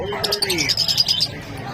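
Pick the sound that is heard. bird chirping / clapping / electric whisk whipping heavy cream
bird chirping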